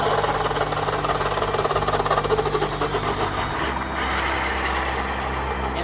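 An electric side cart motor on a converted ebike whirs with a steady, buzzy hum as it accelerates gently, its tone shifting partway through, heard close with no talking.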